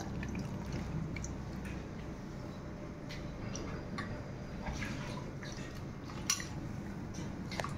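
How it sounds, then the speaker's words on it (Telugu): Soaked meal maker (soya chunks) is squeezed out of hot water by hand, giving quiet drips and small wet splashes with an occasional faint clink of a dish, low and close. "ఫస్ట్ మీల్ మేకర్ని హాట్ వాటర్లో వేసి ఇలా గట్టిగా పిండుకోవాలి."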